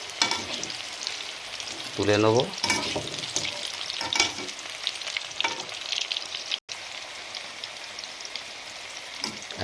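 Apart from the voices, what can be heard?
boiled elephant foot yam frying in oil in a wok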